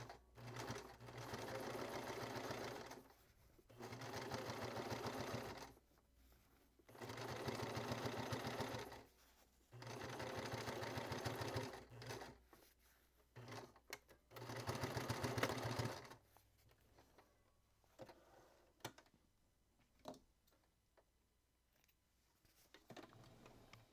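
A sewing machine top stitches along the turned front of a fabric piece, running in several steady bursts of a few seconds each with short pauses between, then quieter handling noises near the end.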